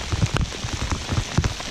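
Steady rain patters on the surface during a fishing outing in a downpour, with irregular close drops tapping over about two seconds and no talking.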